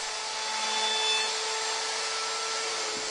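A router fitted with a 1/4 inch round-over bit runs along the bottom edges of wooden apron rails for a child's table, a loud steady high-pitched whine without pause.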